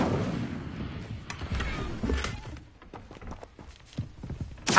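Incendio fire spell cast in the Hogwarts Legacy video game: a few sharp, loud bursts of fiery whoosh and impact that fade between blasts, with a final strong burst at the end.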